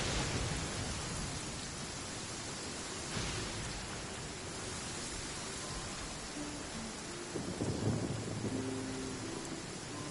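A rainy thunderstorm: a steady, even hiss of heavy rain throughout, with a low rumble of thunder swelling near the end.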